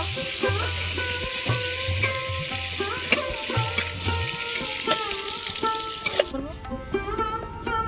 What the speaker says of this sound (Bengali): ওই তেলের মধ্যে আমি আরো তেল দিয়ে দিলাম পটলগুলো ভেজে নেবো